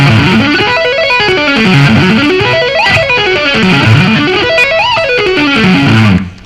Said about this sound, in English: try doing some hammer-ons and pull-offs in the top half of the arpeggio